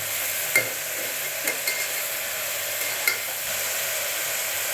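Onions frying until golden in a pan for mutton kurma, a steady bright sizzle with several sharp spoon scrapes and taps from stirring, close and alone.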